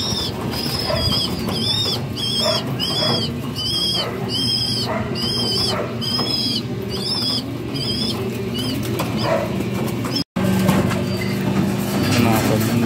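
Pigeons in a loft aviary, repeated soft rhythmic cooing and a few wing flaps close by, with someone talking over the birds throughout and a brief break near the end.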